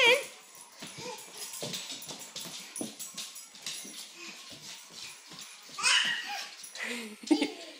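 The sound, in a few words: puppy whimpering and barking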